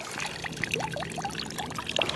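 Water pours and trickles out of a weatherproof camera that went fully underwater in a river flood, a faint, close run of gurgling drips and small splashes.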